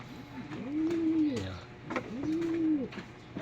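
Pigeons coo in two rising-and-falling phrases, each about a second long, with a short gap between them, close by and fairly loud, and no voices over them.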